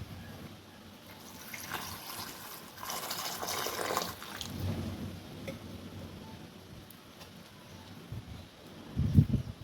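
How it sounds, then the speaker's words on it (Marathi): Water and salt go into soya chunks in a cooking pot, giving a faint, steady pouring and splashing hiss with a soft knock of the pot near the end, heard quietly with no talk. "आता यात मी पाणी व मीठ टाकून छान उकळून घेणार आहे"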